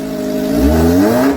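A Kawasaki Ninja ZX25R with an aftermarket exhaust revs loud and close, its engine tone climbing smoothly in a single sustained rise.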